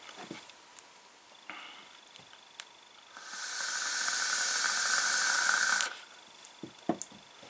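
A vaper breathes out a long, steady, airy hiss of vapour from an e-cigarette filled with Biscuit Unicorn Blends e-liquid. The hiss lasts about three seconds, with small clicks and faint handling noises before and after.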